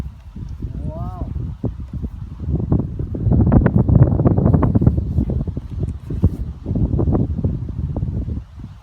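Strong wind buffets the microphone in a continuous, swelling rumble outdoors during RC car bashing, with gusts rising in the middle and people talking over it.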